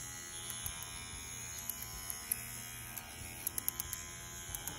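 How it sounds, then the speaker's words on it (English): A Bronc V10 tattoo machine motor hums faintly and steadily with a high electric whine, driving the needle, with small clicks and ticks scattered over the continuous buzz. "I'm not sure if you all can hear the motor working"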